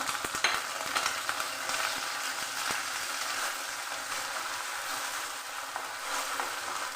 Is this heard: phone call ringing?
no